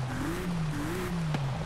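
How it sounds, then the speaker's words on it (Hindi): Bentley Bentayga engine in Forza Horizon 5 during off-road driving, a low, steady engine drone with gently rising and falling pitch, fairly quiet and heard alone. "इसकी साउंड भी सुन लो"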